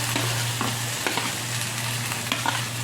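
Chopped onion and chilli frying in a little oil in a kadai, a steady loud sizzle close by with occasional stirring scrapes, and no voices.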